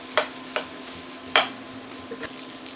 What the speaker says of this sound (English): I'm going to put this in a pot too and crush it while I put it in a pot